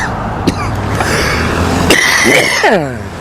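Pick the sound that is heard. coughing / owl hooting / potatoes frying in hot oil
coughing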